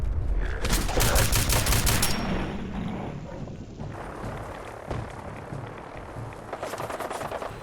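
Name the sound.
gunfire from enemy gunners in Fallout 4 video game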